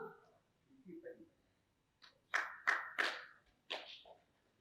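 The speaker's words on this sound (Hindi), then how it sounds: "इसीलिए ये ताली क्यों बजाई है?" A handful of sharp, separate hand claps ring out in a spiritual discourse setting, following a moment of quiet speech, close and fairly loud, then stopping.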